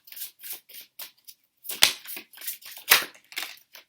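Tarot cards shuffled by hand in a series of crisp, riffling bursts with short pauses between, two sharper snaps standing out, close and fairly loud with no talk.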